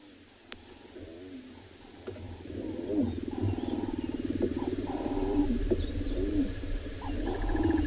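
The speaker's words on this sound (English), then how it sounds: "You hear the whining noises from him and then she's the one growling" Big cats vocalizing at close range: a series of whining cries followed by low, rhythmic growling that builds and continues steadily.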